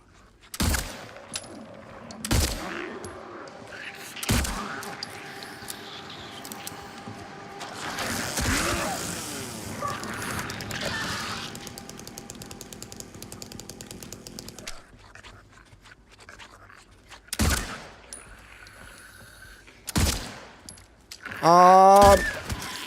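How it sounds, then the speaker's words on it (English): Gunshots in the Silent Hill 2 remake video game: a series of sharp, spaced shots ring out one by one, with a burst of closer, louder fire near the end over a dim, murky background. "I'm getting a little bit better with the shooting in this"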